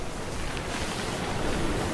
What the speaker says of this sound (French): Les vagues atteignent 10 mètres de haut et la pluie tombe de plus en plus violemment.